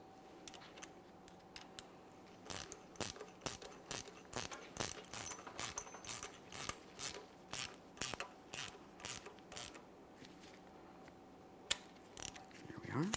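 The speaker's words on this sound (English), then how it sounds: "I'll be using a ratcheting 18mm wrench to tighten this mounting nut" An 18mm ratcheting wrench tightens a strut mounting nut on a 2008-2017 Mitsubishi Lancer 2.4L rear strut, giving a close, loud run of rapid ratchet clicks in bursts with short pauses in between.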